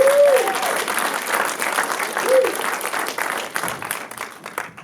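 A film festival audience claps for filmmakers after a shorts block Q&A, a lively burst of applause with a couple of brief whistles that gradually thins out.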